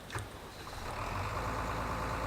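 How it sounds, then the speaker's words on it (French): Ursus tractor engine from a farming game mod, a steady low mechanical drone that builds after a brief start and holds constant and fairly loud, with no talk. "écoutez bien le bruit moteur."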